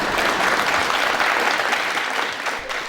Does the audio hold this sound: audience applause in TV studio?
yes